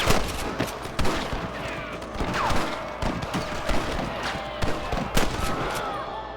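Gunfire in the Western video game Red Dead Redemption, a string of sharp shots at irregular intervals, some in quick bursts, against a busy outdoor game ambience with voices at times.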